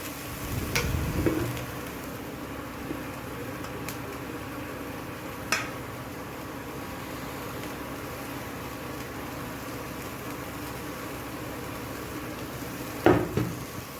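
Onion leaves, green chillies and vegetables fry in a pan for a vegetable soup, a continuous low sizzle running throughout with a few isolated clicks and knocks of a utensil against the pan.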